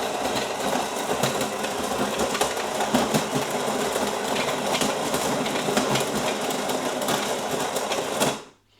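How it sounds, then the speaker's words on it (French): A De'Longhi Magnifica Duo coffee machine grinding beans: a loud, continuous rattling mechanical whir lasting about eight seconds, close by, then cutting off abruptly. "ça vient de moudre, comme vous avez pu l'entendre"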